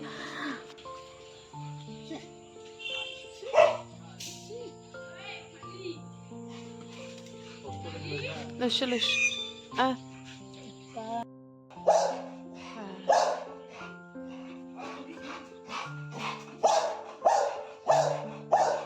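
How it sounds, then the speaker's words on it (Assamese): Two pet dogs at a house bark repeatedly in short bursts, some close and loud, mixed with background music and occasional voices. "বৌহতৰ ঘৰত দুটা পোহনীয়া কুকুৰ আছে আৰু আমি অহাৰ লগে লগে বহুত মানে ভুকিব ধৰিছে"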